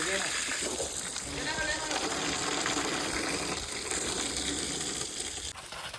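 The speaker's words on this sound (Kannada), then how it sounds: "ಗಾಡಿ ತೊಳಿದರೆ ಭಾಳ ದಿನ ಆಯ್ತು ಇವತ್ತು ತೊಳಿತಾ ಇದೀವಿ" Water gushes and splashes steadily against a vehicle being washed nearby, a continuous rushing spray that eases off at the very end.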